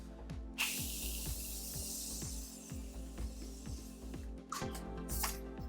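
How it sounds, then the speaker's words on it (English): Continuous Morphe setting mist sprayed onto a face, a soft airy hiss from about 0.6 to 3 seconds, then a couple of shorter spritzes near the end, all close and quiet over a steady background rhythm. "I'm gonna spray my face with the Morphe Continuous Setting Mist"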